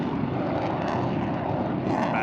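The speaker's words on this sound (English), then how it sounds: "the 2 solo pilots are making their approach to the flight line" Jet aircraft flown by solo pilots making their approach to the flight line at the NAS Oceana air show, a broad continuous engine roar at moderate distance, steady and unbroken with a slight swell near the end.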